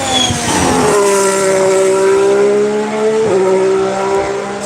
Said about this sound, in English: Here comes the Haas. Listen for the whistle.